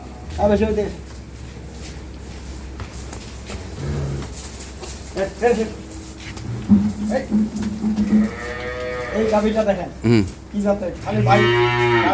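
Cows and a calf on a dairy farm moo repeatedly, with several loud, close, drawn-out calls spread through the scene while people talk around them.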